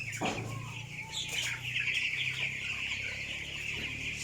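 Broiler chickens about 16 days old in a grower house cluck and call close by, several overlapping bursts over steady background barn noise, with no talking.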